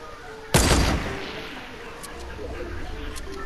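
A single sharp sniper shot cracks loudly in a video game, followed by a quieter decaying tail and faint scattered game sounds.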